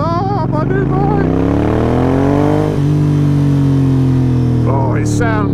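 A Ducati motorcycle engine revs hard and up close, its loud tone climbing and then holding steady before dropping away, with a quick extra blip of throttle at the end.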